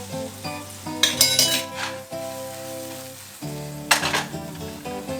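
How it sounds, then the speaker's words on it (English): Fish fillets and garlic sizzle steadily in a hot frying pan while metal utensils clink and scrape against it, with a tonal hum running underneath. "Now while those are sizzling, I'm going to take a little bit of garlic, put it in the pan with them."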